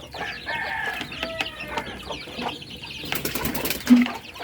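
Native chickens cluck softly amid a scratchy farmyard background, with a brief flutter of wings near the end.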